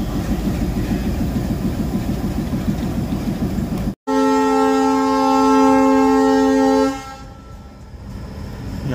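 Diesel locomotives roll through a station on the Ajmer–Amritsar line, a loud steady rumble of rail cars running under a long multi-tone horn blast that sustains for several seconds before cutting off.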